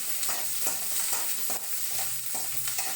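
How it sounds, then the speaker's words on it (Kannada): Sliced onions and curry leaves frying in a pan, a close continuous sizzle broken by regular scraping strokes of a spatula stirring them. "ಈರುಳ್ಳಿ ಆಮೇಲೆ ಕರಿಬೇವು ಹಾಕ್ಕೊಂಡಿದ್ದೀನಿ ಫ್ರೆಂಡ್ಸ್ ನಾನು"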